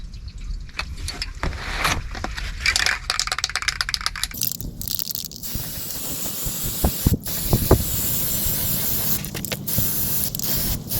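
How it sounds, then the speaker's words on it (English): Cast iron colour spray paint hisses from an aerosol can in repeated bursts and longer sprays, close and fairly loud, with some clicks and handling noise between passes. "I sprayed it all with this cast iron spray paint"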